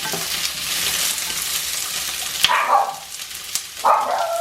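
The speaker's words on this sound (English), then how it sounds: "He wants to add the shallots to the oil" Shallots sizzling in hot oil in a pan, a loud close hiss that spikes into sharp bursts as they hit the oil and are stirred, with no talking.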